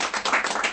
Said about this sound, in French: Ça mérite un peu des applaudissements,